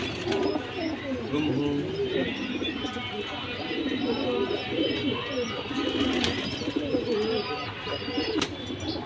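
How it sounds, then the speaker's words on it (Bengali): A pair of Bagha pigeons coo repeatedly at close range, soft rolling calls overlapping steadily against a busy, low background murmur. "ভিউয়ার্স এখন একটা বাঘা কবুতর দেখাবো, একটা না জোড়াই দেখাবো।"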